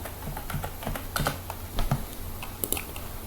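Someone types a password on a computer keyboard in a quiet room, giving scattered, close key clicks at an uneven pace over a few seconds.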